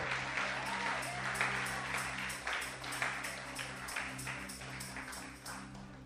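A church congregation claps in applause, a steady spread of many hands heard at moderate distance over a low sustained musical tone from the sanctuary.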